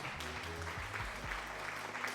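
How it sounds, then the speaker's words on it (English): Applause heard faintly under a lo-fi painting stream, a soft continuous patter of clapping over low background music. "Thank you for the applause, Lion."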